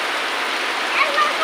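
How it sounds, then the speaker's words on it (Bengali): Heavy rain pours down, a dense, steady hiss that fills the short stretch without a break, close and fairly loud, with no one talking. "পুরো বৃষ্টি পড়ছে"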